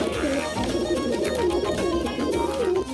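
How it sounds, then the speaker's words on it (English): Pigeons of several colours coo in a steady, overlapping murmur of soft, rolling warbles. Fancy breeds such as a crested helmet and a fantail are among them, and the cooing continues throughout at close range over a busy background. "All of these pigeons have different colors and different personalities."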